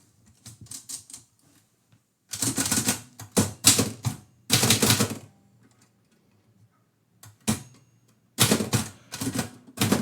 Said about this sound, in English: now you can watch me as I actually type the poem out.